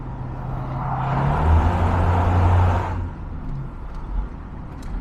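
A modified Jaguar XJS V12 engine rumbles inside a narrow one-lane road tunnel, swelling into a loud, resonant drone for about two seconds before settling back to a steady, nearer idle-like hum.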